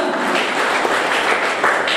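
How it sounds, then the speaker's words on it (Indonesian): A congregation applauding for Jesus Christ at an Easter service at a prayer mountain, continuous dense clapping filling the whole moment at moderate loudness. "Tepuk tangan bagi Tuhan Yesus Kristus"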